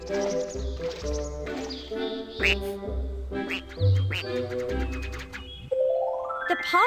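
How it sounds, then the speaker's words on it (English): A quackberry in Viva Piñata from Rare Replay gives a series of cartoonish quacks in a bouncy rhythm over light game music, closing with a rising chime. "The pond you have made has attracted a quackberry."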